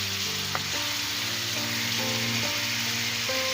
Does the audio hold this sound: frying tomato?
yes